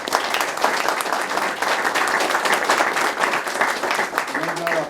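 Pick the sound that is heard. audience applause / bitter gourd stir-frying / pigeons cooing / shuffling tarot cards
audience applause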